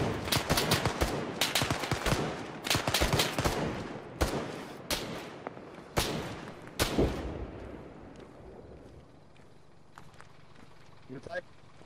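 Gunfire in the Arma military game on the Sahrani map: a burst of rapid shots for about seven seconds, then scattered single reports fading out, with players talking over it.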